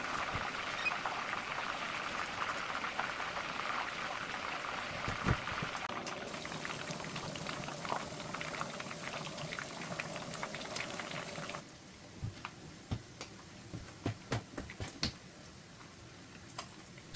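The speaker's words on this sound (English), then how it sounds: "Fry all the mussel skewers in the same way until they turn golden brown." Mussel skewers fry in a pan until golden brown, giving a dense bubbling sizzle for about eleven seconds. It then turns quieter, with scattered sharp crackles and pops, and nobody talks.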